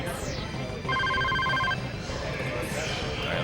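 A telephone bell rings in a short electronic burst of repeated trills, moderately loud within a noisy background while people talk and livestream game audio plays.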